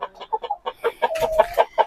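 Laying hens in a coop give a rapid run of close, loud clucks in quick rhythmic bursts, one drawn-out call mid-sequence, with no talk.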